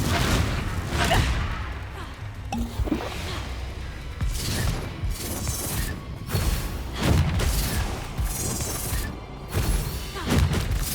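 A Confringo blasting spell goes off in the Hogwarts Legacy video game, with repeated booming bursts and whooshes spread across a busy combat scene that has no talk over it.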